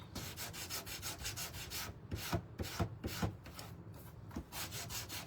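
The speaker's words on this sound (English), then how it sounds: "Let's sand this one." Sandpaper rasps back and forth over a small wooden piece from a DIY house kit in quick, rhythmic strokes, close and steady with no voices.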